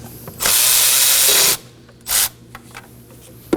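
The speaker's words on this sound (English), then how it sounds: "We're gonna go ahead and remove this 10mm bolt that holds the high pressure line onto the head using a 10mm socket." A socket wrench loosens a 10mm bolt holding the high-pressure line to the cylinder head of a 2016-2020 Kia Sorento 2.4L engine, making a loud, sustained, harsh burst, then a shorter burst and a sharp click.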